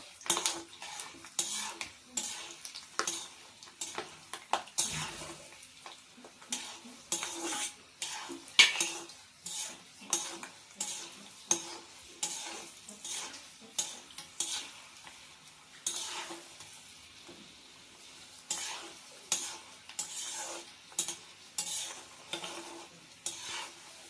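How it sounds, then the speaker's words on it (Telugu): Ingredients for lemon rice (chitranna) roast on low heat in a pan, with quick repeated metal scrapes and clinks of a spoon stirring over a faint sizzle, and no voices. "దోరగా సిమ్లో పెట్టుకొని వేయించుకోవాలి"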